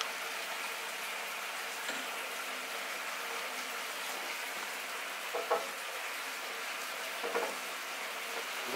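Onions frying in a pan for a peri peri chicken burger, a soft, even sizzle running throughout with a few faint stirring clicks, close by and quiet, no talk.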